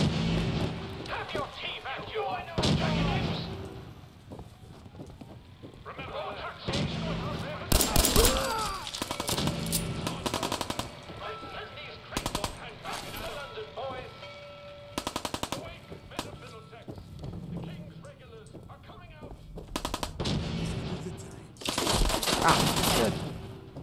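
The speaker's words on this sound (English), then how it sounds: "It's not nice to shoot at people, okay? Unless I'm the one doing the shooting." Rapid bursts of automatic and single gunfire from the Fallout 4 video game crackle repeatedly in close succession, with game dialogue and talk running underneath throughout.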